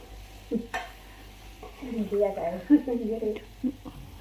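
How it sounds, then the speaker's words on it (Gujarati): Potatoes, stuffed eggplant and fresh pigeon peas are stirred into hot tempering oil, giving a close sizzle with scraping spoon sounds while someone talks over it. "આ બધું નાખી દીધું વઘારમાં અને સરસ મજાનું શાક વઘાર્યું"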